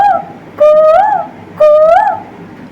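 A voice imitates a koel's call, two rising whistled hoots in a row, loud and close with a short pause between them.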